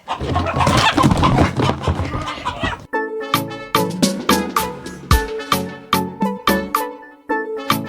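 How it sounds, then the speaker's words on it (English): Chickens and roosters cluck amid a noisy flurry of movement around a chicken tractor, then the sound shifts to a run of sharp, ringing plucked or struck tones in a steady rhythm. "Here's Robin, one of the roosters that we put up in the house."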